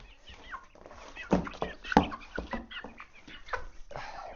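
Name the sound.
chicks flapping wings released into new coop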